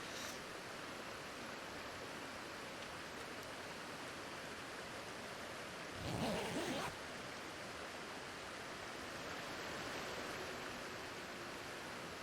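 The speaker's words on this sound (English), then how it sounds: "It's like white noise having the waterfall right there." A waterfall in the snowy survival game The Long Dark gives a steady, hissing roar of falling water, broadband and constant like white noise, with a brief louder swell near the middle before settling back to an even rush.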